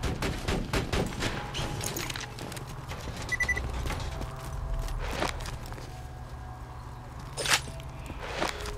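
Shotgun fire in the Borderlands 2 video game: a series of sharp, loud blasts spaced unevenly across the stretch, with clattering game effects and a steady low background hum between shots.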